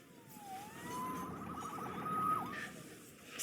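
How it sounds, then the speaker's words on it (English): Police siren from the Spider-Man PS4 video game, a wailing tone rising and falling over busy city traffic rumble, fairly close and steady across the moment with no talk. "Saved by the siren."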